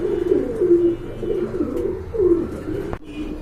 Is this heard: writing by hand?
no